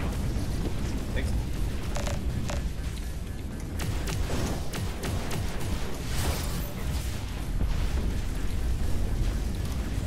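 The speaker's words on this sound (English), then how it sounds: "My ship was exploding down the tunnel" A ship exploding in the tunnel-based shooter game Overload, with booming bursts and crackling pops rumbling low over several seconds while a voice talks on top.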